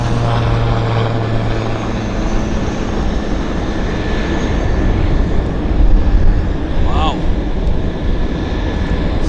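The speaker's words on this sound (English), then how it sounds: "We've got another airplane on approach." A fixed-wing airplane on approach at Vancouver airport drones with a steady engine roar that swells slightly, while someone talks throughout over the noise.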